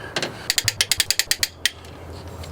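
Torque wrench ratcheting while tightening a bolt to 65 foot-pounds on a first-generation Dodge Caravan engine rebuild: a close, loud run of about a dozen quick, evenly spaced clicks, then one final click and quiet.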